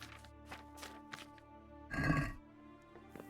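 A horse in Kingdom Come: Deliverance lets out a short, loud neigh, preceded by a few faint clattering taps over a steady low hum.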